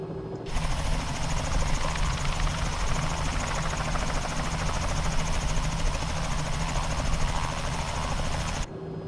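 Robinson R66 helicopter engine in the Cowansim flight simulator game, a steady loud turbine and rotor drone with a continuous whine, running unbroken from start to finish with no talk.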